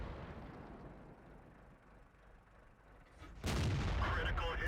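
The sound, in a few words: tank gun firing a gold shell in World of Tanks video game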